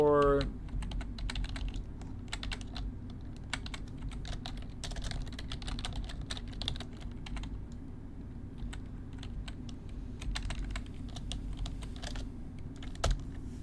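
Typing on a computer keyboard: a steady run of irregular key clicks with occasional heavier taps over a low constant hum, close and moderately quiet.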